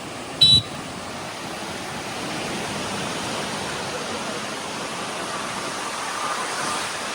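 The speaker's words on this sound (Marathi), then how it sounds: "आणि मस्त वारा सुटलाय" Steady wind roars across an open mountain viewpoint near a village and river, a continuous broadband rush that stays loud and even throughout, with one short electronic beep near the start and no talking.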